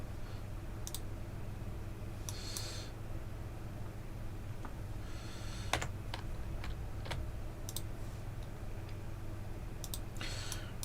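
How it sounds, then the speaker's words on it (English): Scattered computer keyboard keys click and tap in short sparse bursts over a steady low hum, fairly faint and close, with no talk. "That was one of the things on my keyboard going."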